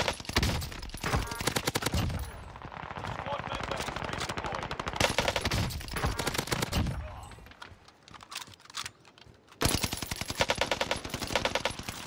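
Rapid automatic gunfire from an STG rifle in a Rebirth Island battle game, loud and sustained bursts rattling almost continuously, with a brief lull before another heavy volley.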